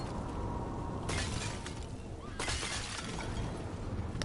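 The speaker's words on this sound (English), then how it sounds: "There's more pots to smash by running into them." Ceramic pots smash in Dragon Age: The Veilguard as a character runs into them, two bright shattering crashes about a second apart standing out over a steady game background bed.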